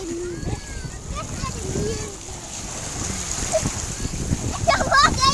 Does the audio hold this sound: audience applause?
no